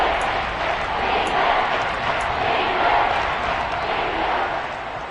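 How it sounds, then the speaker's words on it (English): A packed football stadium crowd at a Saints versus Falcons game roars in a broad, sustained wash of cheering and noise that swells and holds throughout, with a voice faintly mixed in. "The crowd getting into it as we come up on a big 3rd down."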